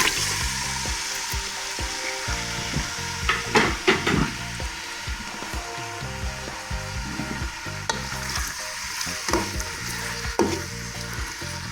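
Onions frying in oil in a pan, a continuous close sizzle and crackle with occasional spatula scrapes and knocks, strongest around the middle, with no talking.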